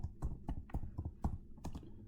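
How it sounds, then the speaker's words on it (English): Soft, steady keystrokes on a computer keyboard tap out a regular rhythm at close range, muffled and low, with no voices. "we need to type it, right? We need to type it."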